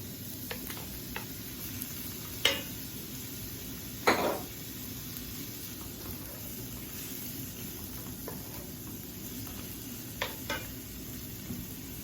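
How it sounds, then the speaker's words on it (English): Shrimp for fried rice sauté in a hot pan with a steady low sizzle, broken by a few sharp utensil clicks and scrapes against the pan. "So you just want to saute this. Then this is the time where you want to throw in your shrimp."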